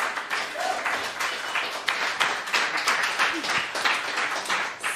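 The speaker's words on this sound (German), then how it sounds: "Nochmal einen fetten Applaus für diese tollen Künstlerinnen." Concert audience applauding the performing artists, a steady wash of many hands clapping with scattered sharper claps, moderately loud and sustained throughout.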